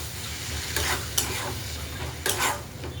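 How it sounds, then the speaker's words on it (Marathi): Water poured onto spices frying in a pan bursts into loud sizzling, with two sharp hissing surges while a spoon stirs and scrapes through them, close up and without speech. "थोडे मसाले परतण्यासाठी पाणी ओतलेलं आहे"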